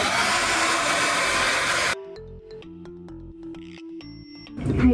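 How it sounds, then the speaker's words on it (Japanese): For about two seconds a hair dryer blows loud and close while hair is combed straight and dried, then it cuts off, leaving faint tonal background sounds before a short rise in noise at the end. "これで溶きながら、まっすぐにしながらドライヤーをかけて癖をつけます"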